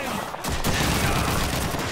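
Rapid, dense bursts of machine gun fire in Call of Duty rattle continuously after a brief pause, loud and close.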